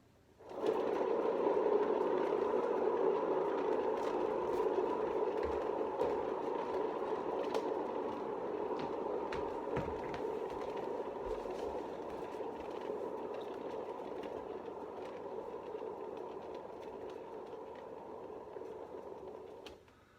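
A paint-spinning machine turns a poured canvas, giving a steady, continuous mechanical whir and hum that holds at an even level for the full stretch, with no voices over it.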